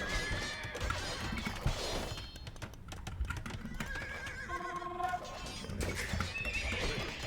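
Light cavalry horses in the Age of Empires strategy game neigh and whinny repeatedly over clip-clop hooves and clashing battle sounds, loud and busy.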